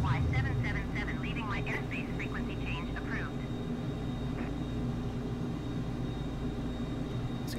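An F-15 fighter jet flying early in the morning over Japan from Yokota to Osan gives a steady, dense cockpit drone that holds throughout, with a pilot's voice over it at the start.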